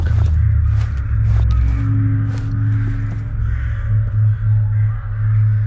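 Crows cawing in the video game Stalker GAMMA, several loud harsh caws over a constant low rumble, with no talk.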